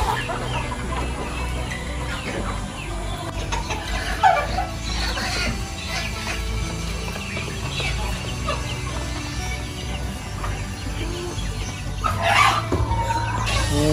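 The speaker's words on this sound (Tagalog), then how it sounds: "Mao ni siya ang amo ang Peruvian nga manok." Peruvian chickens cluck steadily at close range, with a few louder squawks rising above a busy backyard farmyard background.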